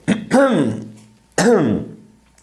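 Two short throaty coughs close by, one after another with a pause between, rough and forceful.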